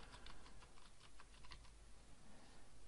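Keys tapped on a computer keyboard to type a folder name, a short burst of quick, light clicks, faint and alone, fading out after a second and a half.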